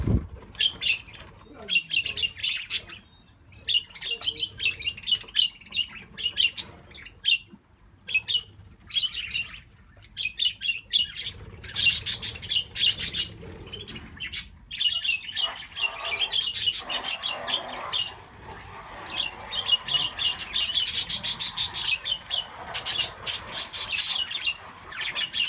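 Budgies in a cage chirp and squawk in quick, busy bursts, some sharp calls standing out, close by with rustling and faint household noise between the calls.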